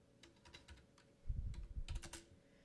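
Keys tapped on a computer keyboard, a short burst of quiet, close clicks with a brief flurry of quicker strokes in the middle, with no voice.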